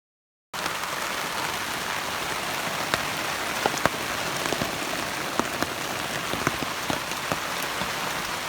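Steady rain patters on surfaces at a forest campsite in Virginia or West Virginia, a dense continuous hiss with scattered sharper drops striking nearby throughout.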